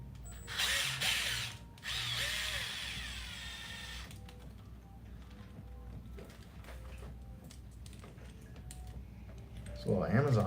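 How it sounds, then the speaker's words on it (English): A small Amazon-bought power drill whirs in two loud bursts near the start, then gives way to quieter clicking and ratcheting handling noises, with faint talk in the background. "This little Amazon drill don't play around."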